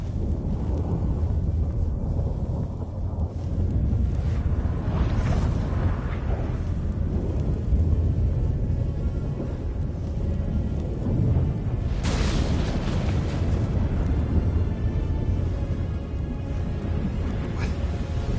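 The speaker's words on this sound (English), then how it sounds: "That a storm?" Deep rolling thunder rumbles through a magical storm in The Witcher 3, a sustained low roar with a sharp crack partway through, heavy and close.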